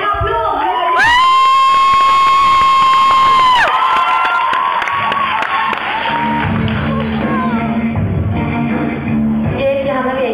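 A school talent show contest audience cheers and shouts after a contestant is introduced, with loud whoops and crowd noise over sustained tonal music, the excited cheering continuing beneath the music throughout.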